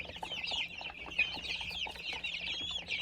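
Chicks twenty-two days old cluck and peep faintly in a continuous, overlapping chatter, with no voices present.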